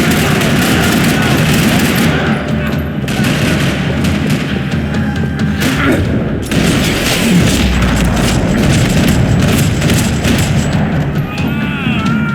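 Dense, continuous Max Payne 3 gunfire in a parking lot, with booming blasts and rattling shots, loud and unbroken for the whole stretch, with no pauses.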